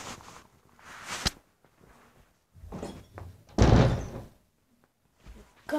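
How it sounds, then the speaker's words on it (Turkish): A room door swings shut with a solid thud partway through, amid a few other faint bumps and rustles in a quiet indoor space, with no talking. "Kapıyı kapattım arkadaşlar."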